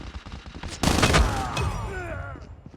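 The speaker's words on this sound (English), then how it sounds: "Now, if I shoot, see how it goes up?" A weapon fires in Call of Duty: Mobile, a sudden loud burst of rapid gunfire that hits at once and then trails off into a ringing, sweeping tail, with no voices over it.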